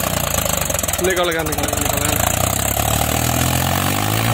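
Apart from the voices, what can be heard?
Mahindra 265di tractor pulling heavy loaded trolley in mud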